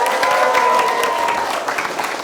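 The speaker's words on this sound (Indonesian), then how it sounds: "tepuk tangan yang meriah" A crowd of school teachers claps together, dense loud applause that holds steady and then thins slightly toward the end.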